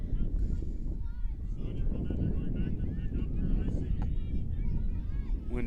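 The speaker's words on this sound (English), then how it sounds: "Wind really coming in now, 15, 20 miles an hour easily, maybe gusting at higher speeds than that." Strong wind gusts at 15 to 20 miles an hour or more across an outdoor ultimate frisbee match, a loud continuous roar buffeting the microphone while a commentator talks over it.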